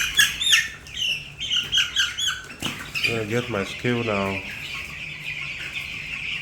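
Fourteen-day-old broiler chicks squawk and cluck loudly in repeated bursts close by, with a short stretch of louder calling in the middle, while someone speaks briefly over them.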